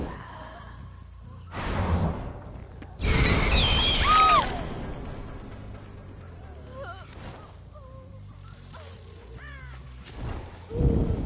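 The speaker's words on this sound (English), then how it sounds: "The crows might have just been given away where she is." Crows caw in a Dead by Daylight match, a few short hoarse calls scattered over several seconds among breathy gasps, whooshes and other game sounds.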